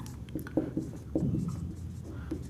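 Chalk or marker writing on a board during an English grammar lesson, a series of short close scratches and taps in an uneven rhythm, with no voice over them.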